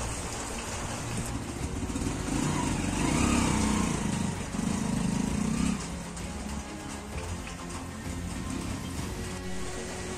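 Rain falls outdoors in Goa as a steady broadband patter. Midway an engine drone, like a passing motorbike, swells and fades under it, and no one speaks.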